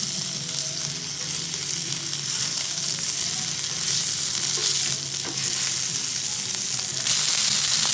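Cocktail sausages fry in a pan for paella, a steady loud sizzle and crackle with stirring, continuous throughout and growing slightly louder near the end.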